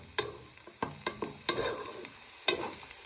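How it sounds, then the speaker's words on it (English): Prawns hitting a hot frying pan for bruschetta prawns, a run of sharp sizzles and stirring scrapes at close range, bursts spaced irregularly over a quiet hiss. "Then you add in your prawns just to warm up your cute prawns."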